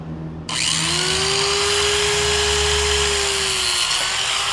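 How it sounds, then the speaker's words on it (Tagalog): A handheld grinder runs off a portable power station at a campsite, spinning up after a brief quiet start into a loud, steady whine with a constant high tone held for several seconds, close and alone. "Subukan natin itong grinder."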